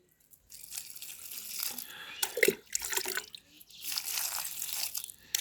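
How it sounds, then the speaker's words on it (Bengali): Water poured from a container onto garden plants in poor soil, splashing and trickling in uneven bursts with short pauses between pours, close by. "এটা একটু সবটার মধ্যেই দিয়া দিই পানি।"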